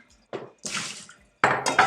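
Excess water is poured out of a cooking pot into a kitchen sink at high altitude, heard as three short splashing bursts separated by brief pauses, close and fairly loud.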